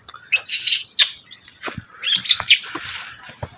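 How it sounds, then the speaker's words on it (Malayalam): Baby birds chirp from nests along a trekking trail in Idukki, a cluster of thin, high, rapid tweets and twitters close by, in irregular bursts. "ആ കിളികളുടെ കുഞ്ഞുങ്ങളൊക്കെ ഇഷ്ടം പോലെ ഉണ്ട് കേട്ടോ. അതിൻ്റെ ഒരു സൗണ്ടാണ് നമുക്ക് കേൾക്കാൻ കഴിയുന്നത് മുഴുവൻ"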